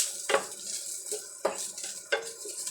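Sautéed kangkong with salmon belly stirred in a pan, with four distinct scraping strokes of a utensil against the metal, close and clear, over a faint background sizzle.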